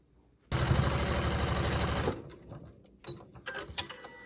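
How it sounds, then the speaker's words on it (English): Sewing machine stitching quilt fabric pieces for a crumb quilt block: a dense, fast mechanical run lasting about a second and a half, close and loud, followed by softer handling clicks and rustles. "I'm going to sew right here on this edge."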